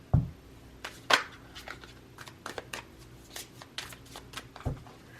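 Tarot cards are shuffled close up in quick riffling bursts and soft slaps, a series of crisp flicks and card taps spread irregularly over a few seconds, with no speech.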